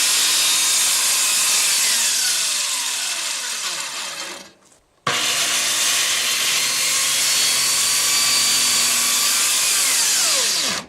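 A power saw cuts through a sheet of plywood in a house attic, a loud, steady grinding whine that briefly drops away near the middle before cutting on again, with no talk.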